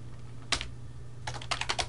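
Computer keyboard keys tapped close up while entering a command: a single keystroke, a short pause, then a quick burst of several clicks over a low steady hum.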